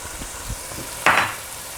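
Potatoes frying in oil in a pan as homemade garam masala goes in and is stirred: a soft steady sizzle with a short, brighter burst of crackling partway through.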